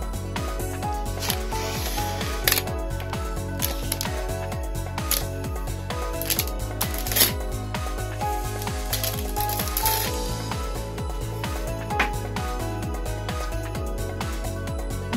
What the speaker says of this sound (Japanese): 早速開封していきます。